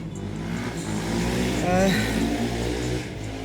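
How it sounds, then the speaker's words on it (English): A noisy motorbike engine swells as it passes and then fades, while a person keeps talking over the roar. "Noisy motorbike."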